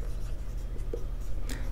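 Pen or marker writing out a Class 10 trigonometry solution, light scratchy strokes close up over a steady low hum, with no talk during the writing.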